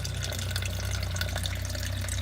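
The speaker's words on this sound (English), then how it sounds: "get under here and drain that water out" Water drains and trickles from the diesel fuel water separator on a 6.0 Power Stroke diesel engine, a steady close splashing stream over a low engine-bay hum, with no talk.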